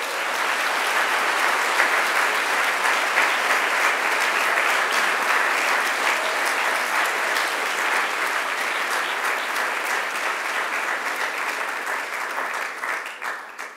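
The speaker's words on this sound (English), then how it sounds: "please give them another round of applause." A graduation ceremony audience applauds the university staff standing with them, a dense, steady wall of clapping from many hands that carries on without a break and fades slightly at the end.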